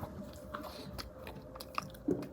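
Someone bites into a homemade Starbucks-style cookie with a crisp outside and soft inside, then keeps chewing: quiet close crunches with one sharper bite near the end and no talking.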